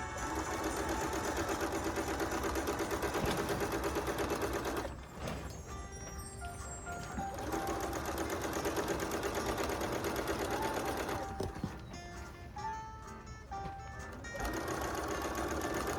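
A sewing machine stitches together 10.5-inch quilt strips for a Christmas star quilt, its fast, even mechanical whir running loud and close, pausing twice briefly while handling the fabric, then resuming.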